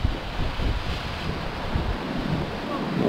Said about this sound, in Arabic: لأن الموج بعض المرات كيجيو قويين